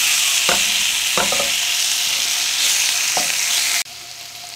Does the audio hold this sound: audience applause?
no